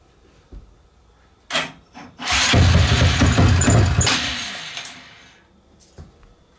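A cold Honda Grom motorcycle engine catches after a couple of brief cranking attempts, then revs up high for about two seconds before dropping away, close and loud in an otherwise quiet setting.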